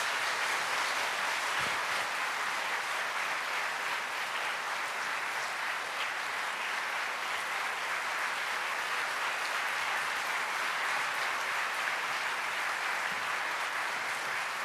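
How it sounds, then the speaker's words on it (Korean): A church congregation at a Seoul joint worship service gives a pastor a warm welcome with sustained applause. Even, dense clapping fills the hall at a steady level for the whole stretch. "큰 박수 맞이해 주십시오."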